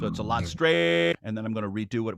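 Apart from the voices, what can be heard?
No everyday noise stands out behind the speech.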